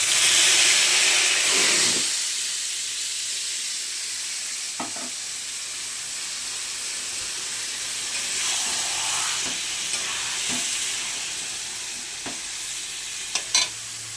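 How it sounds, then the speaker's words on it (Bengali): Marinated chicken dropped into hot oil with a bay leaf and cumin seeds, giving a loud burst of sizzling that settles into a steady frying hiss with occasional clinks of a spoon against the pan. "এবার এই যে মাংসটা আমি মাখিয়ে রেখেছিলাম এইটা দিয়ে দেবো।"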